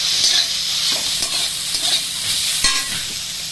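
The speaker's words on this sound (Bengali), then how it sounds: "হালকা করে ভেজে নিব" Pumpkin greens, stems and leaves, frying lightly in a pan, a loud continuous sizzle with stirring scrapes and a few soft knocks, close up and steady, no voices.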